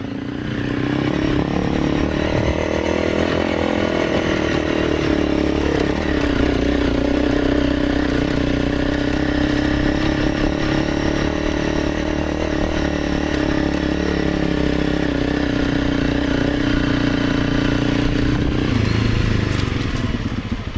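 A motorcycle climbing uphill in second and third gear on the Mt Widgee road, its engine droning steadily and loudly at mid revs throughout with slight variations in pitch, heard close with no talking.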